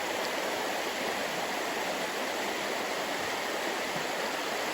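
Steady rushing of river water tumbling over rocks, loud and close, constant with no pauses, heard from the middle of a river in Hokkaido.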